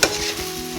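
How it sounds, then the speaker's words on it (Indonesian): Shrimp and baby corn stirred in a hot frying wok: a close, steady sizzle with scraping stir strokes, no voices. "Kita aduk dulu."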